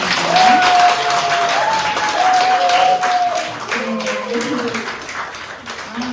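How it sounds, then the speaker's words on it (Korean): Audience applause at a talk concert on skin health in Korea, steady broadband clapping from a crowd throughout, with a voice and tonal sounds running over it and the clapping thinning slightly toward the end. "여러분 다시 한번 뜨거운 박수 부탁드리겠습니다"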